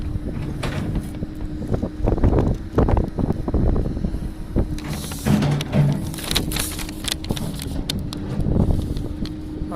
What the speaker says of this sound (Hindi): हवा चल रही है, इसकी थोड़ी समझ नहीं आ रही